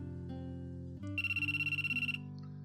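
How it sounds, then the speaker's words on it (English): Cell phone ringing in a video game: a bright electronic ring that pulses rapidly for about a second over a steady musical background, then stops, with no talking. "So my cell phone rang."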